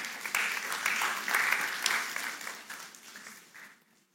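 A congregation at a church talk claps together, a full burst of applause that holds steady and then fades away toward the end.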